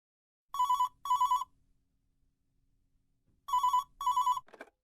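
A telephone rings with two pairs of electronic double rings separated by a pause, clear and fairly close against silence.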